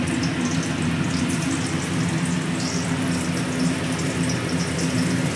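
Onions sizzle in a hot pan for masala papad, a dense steady hiss and crackle close to the mic at fairly strong level, continuous for the whole stretch with no voices.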